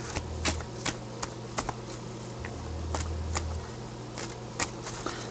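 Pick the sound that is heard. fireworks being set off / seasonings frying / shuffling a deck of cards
shuffling a deck of cards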